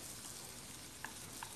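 Chopped garlic and small onions sautéing in a pan, a faint steady sizzle with a couple of light stirring clicks, no talking.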